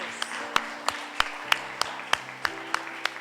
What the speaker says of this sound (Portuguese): Você pode dar mais uma vez um aplauso para o Senhor Jesus?